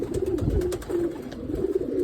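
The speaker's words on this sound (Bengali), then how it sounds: "এই আমাদের মাদি কবুতর" A female pigeon, a hen kept by a pigeon fancier, coos in a low steady murmur close by, with a few faint clicks and scratches over the continuous droning call.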